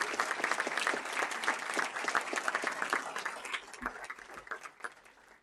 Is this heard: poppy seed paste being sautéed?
no